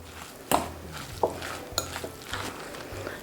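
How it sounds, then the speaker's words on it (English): A fork mixes a Beyond Meat vegan burger mixture in a bowl, making soft scraping, squelching strokes punctuated by several sharp clinks against the bowl at irregular intervals, close up and without speech. "And then I'm going to just mix that all together with my fork here."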